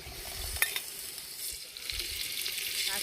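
Mustard seeds, curry leaves, cumin, chana dal and urad dal sizzle in oil for tempering over a wood-fired stove outdoors, with a faint steady crackle, a few small pops and no talk.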